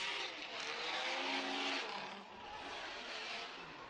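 Drift cars race at a Formula Drift round in Wall, New Jersey, in a sustained, loud roar of revving engines with tire noise that swells and eases slightly over a few seconds.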